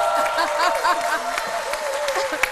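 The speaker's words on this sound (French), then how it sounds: "On applaudit très fort." Studio audience on a French-language midday TV show applauding, a dense wash of clapping heard under a host's voice speaking over it.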